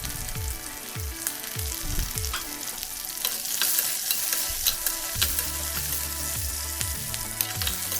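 Garlic, onion and chillies sauté in hot oil for Chettinad mutton uppu kari, a loud continuous sizzle broken by repeated scraping stirs of a spoon in the pan, no voices.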